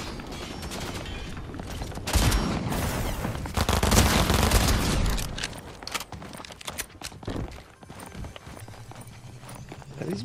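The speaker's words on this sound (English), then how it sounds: "They're shooting back, I see them." Gunfire in the video game Fortnite comes as dense, loud bursts of rapid shots that crowd the first half and thin into scattered cracks and thuds. A voice cuts in briefly.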